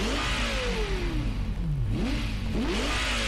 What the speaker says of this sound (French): je n'ai pas pu m'empêcher de démarrer le moteur à l'instant